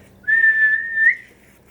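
A voice imitates a policeman's whistle in a single sustained, shrill whistled tone of just under a second that rises slightly at the end, close and alone against near silence.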